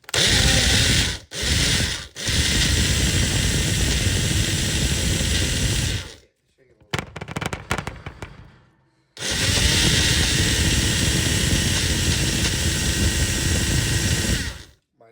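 A kitchen blender churns cottage cheese into a sweet cream cheese in long loud whirring runs, stopping briefly at the start and in a gap midway filled with clattering handling noises.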